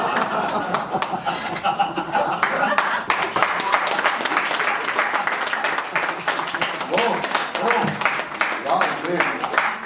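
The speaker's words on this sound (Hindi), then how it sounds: "अरे वाह, बहुत जोरदार तालियां" A group of employees claps loudly and continuously during a corporate laughter yoga session, the dense applause mixed with chuckles and laughter throughout.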